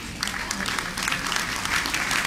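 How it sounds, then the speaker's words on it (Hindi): A convention audience in Chesapeake, Virginia applauds to welcome the city mayor, a dense, continuous crowd clapping that holds at an even level throughout with no speech on top. "हम तालियों के महास्वर से इनका अभिनंदन करेंगे।"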